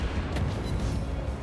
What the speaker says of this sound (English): let's get this main guns going